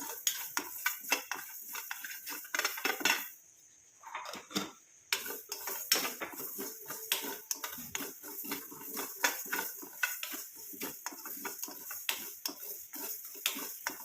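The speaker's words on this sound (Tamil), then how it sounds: "இந்த கடுகும் கருஞ்சீரகமும் ஒரே மாதிரி வறுபட்டு வரணும் நல்லா கருப்பாக மாறுற வரைக்கும் இதை வறுத்து எடுத்துக்கலாம்" Mustard seeds and black cumin dry roasting in a pan give a dense, steady crackle with scraping and clinking of a utensil against the metal, pausing briefly before the popping resumes at an even pace.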